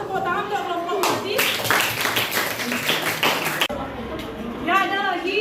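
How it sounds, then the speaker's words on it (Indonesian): A classroom breaks into a burst of dense applause for a presenting student group, many hands clapping together for a few seconds before it cuts off, with voices talking before and after. "Tepuk tangan untuk kelompok Melati."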